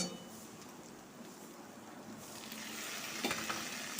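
Chopped tomato is stirred through a frying pan of mutton curry with a steady close sizzle. A few spoon scrapes and a faint clink against the pan come through, and the sizzle swells toward the end.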